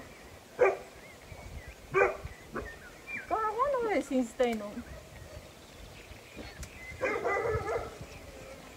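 Several sharp dog barks ring out in separate bursts, with a person talking in between and a whining, wavering call in the middle.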